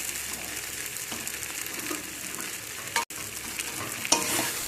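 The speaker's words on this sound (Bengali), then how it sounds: "আলু, মশলা আর মাছের সাথে সব কিছুকে একসাথে মিক্স করে নেব" Potatoes, spices and pieces of fried fish are stirred together in a hot pan for a cabbage dish, giving a steady close sizzle with scraping stir strokes throughout and one brief dropout, with no talking.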